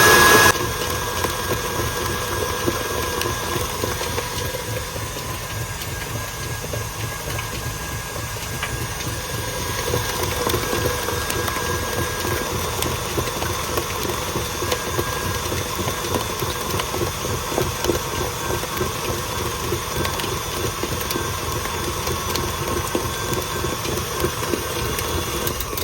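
Stand mixer running at its second-highest speed while kneading sourdough brioche bread dough, a loud steady motor drone with a rhythmic thumping churn that continues unbroken and alone for the whole stretch.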